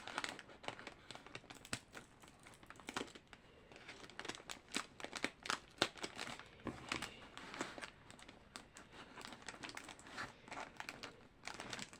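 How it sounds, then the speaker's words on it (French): Kraft paper gift wrapping is handled and torn open, giving a long run of dry, irregular crinkles and crackles in close bursts throughout, with no speech. "elle l'a emballé avec du papier craft"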